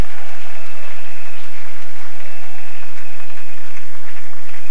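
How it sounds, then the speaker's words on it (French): A church congregation applauds in a loud, dense and unbroken wash of clapping that stays at the same level throughout. "Je voudrais que toute l'église acclame ces dieux-là."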